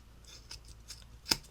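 Mini Sailor keychain scissors snip through material, a few faint soft cuts followed by one sharp, louder snip close by.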